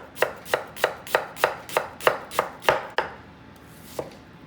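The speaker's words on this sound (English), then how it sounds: "And then I'm just gonna chop my onion." A knife chops an onion on a cutting board in nine quick, evenly spaced strikes, then pauses before one last chop, crisp and close.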